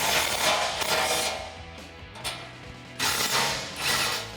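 Two 13mm bolts are loosened on the trailer hitch section of a 2015-2019 Ford F150 4x4 rear bumper, giving close, noisy ratcheting in two long stretches with a short mechanical clatter between them and no speech.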